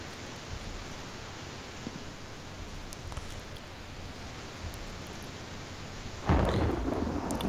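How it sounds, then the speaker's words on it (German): Thunder in the video game Hunt: Showdown rolls over a steady wash of rain-like noise, then a loud, deep rumble bursts in near the end and keeps rolling, with no voices. "Oh, es hat wieder gewittert."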